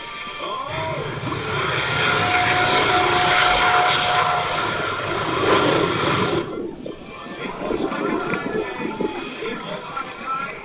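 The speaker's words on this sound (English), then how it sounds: "This car has a jet engine, and it tried to race a plane at an air show." A jet-engine car racing a plane at an air show gives off a loud, broad roaring rush of engine noise for several seconds, then falls away to fluttering, lighter crowd and engine sounds.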